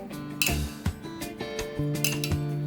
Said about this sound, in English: I'm going to scoop that into our little souffle cups here